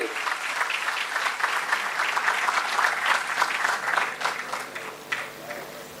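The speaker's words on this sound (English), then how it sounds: "A huge round of applause for him." Audience applause fills a conference hall during the welcome of a guest, a dense, steady wash of many hands clapping at once that holds for the whole stretch and thins slightly near the end.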